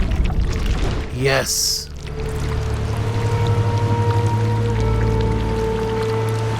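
Swimming through water in What Remains of Edith Finch: a splashing, pouring rush of water, then a steady watery wash beneath a low hum, with a voice talking over it.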